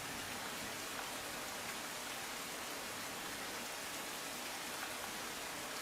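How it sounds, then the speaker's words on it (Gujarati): Heavy rain falling across Rajkot city streets, a steady, dense hiss of downpour holding an even level throughout with no voices. "રાજકોટ શહેરમાં અનેક વિસ્તારમાં ભારે વરસાદ"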